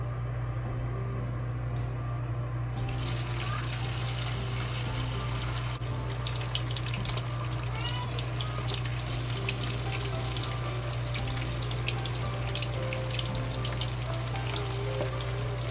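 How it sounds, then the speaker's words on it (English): Pork pieces for sweet and sour pork deep-fry in a pot of oil with a steady crackling bubble under a constant low hum, carrying on evenly without speech. "We fry the last pot of the meat."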